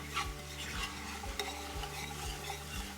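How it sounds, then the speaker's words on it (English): Carrots and celery sautéing in a stovetop pot for a chunky beef stew with parsley, giving a steady close sizzle broken by regular scraping stirs roughly every half second, with no talking. "And we're going to saute and saute and saute until it gets soft."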